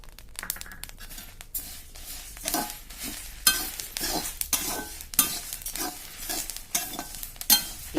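A utensil stirs and scrapes spices and cumin being dry-roasted in a hot pan for chutney powder, with soft crackling and occasional clinks, steady and close, no talking.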